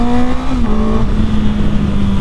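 A 2021 Honda CB650R motorcycle engine drones loud and steady while riding, its pitch holding fairly level with a slight dip partway through, over heavy wind rumble and road noise and with no voices.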